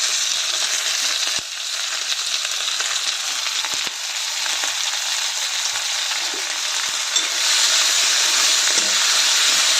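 Onion, capsicum and tomato sizzle together in a pan for a spicy capsicum dish, a loud, steady, close frying hiss that runs unbroken throughout, with a few faint stirring knocks and no voices.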